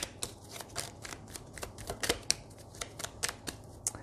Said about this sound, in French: Je vais prendre également les cartes du Lenormand.